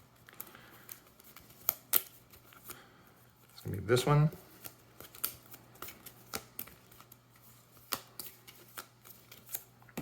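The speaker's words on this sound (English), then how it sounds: "I'm just gonna shuffle and draw." Playing cards from a Flesh and Blood trading card game are shuffled at a table, with soft repeated riffles and taps, then a louder burst of riffling near the middle, while a person speaks quietly in between.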